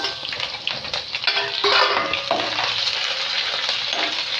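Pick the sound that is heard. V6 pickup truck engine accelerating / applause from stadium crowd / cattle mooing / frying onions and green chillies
frying onions and green chillies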